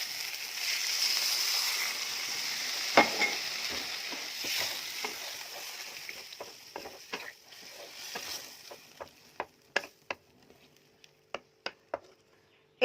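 Water is added to fried potatoes in a pan and a loud, close sizzle breaks out, then fades into sparse crackles and sharp isolated pops toward the end, with no talking.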